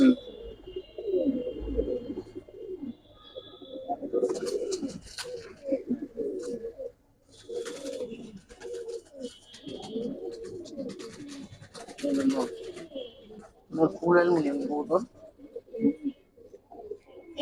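Several pigeons cooing continuously nearby, low murmuring calls overlapping throughout, with occasional louder bursts and faint background voices.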